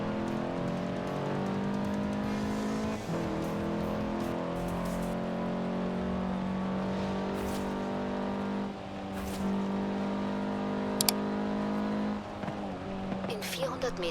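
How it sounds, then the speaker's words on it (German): An Audi TT engine in the Forza Horizon video game revs hard and climbs through the gears, droning loudly and continuously, with a short lift near the middle and scattered tire noises. A voice talks over it. "Ich gebe schon Gas mit meinem Audi TT"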